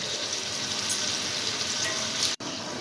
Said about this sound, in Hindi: ये मैं अदरक लहसुन डाल के और मैं इसे भूनूंगी ताकि जब तक इसका पानी खुश्क ना हो जाए चिकन का